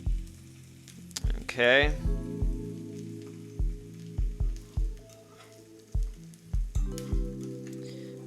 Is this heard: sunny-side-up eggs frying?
yes